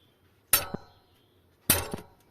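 Two sharp metallic hammer strikes about a second apart on the threaded side cover of a Wisper 705SE electric bike hub motor, each ringing briefly with a small secondary tap, in a quiet room.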